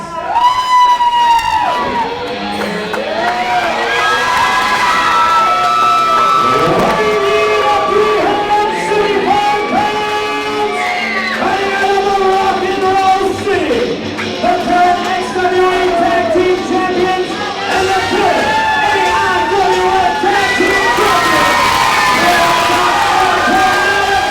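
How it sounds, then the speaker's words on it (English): A large wrestling arena crowd roars and cheers throughout a tag-team title match, with loud sustained shouting and whoops rising and falling close by, and voices calling out over the din. "By the sound of this crowd, they'd love to see these guys lose tonight against the champions."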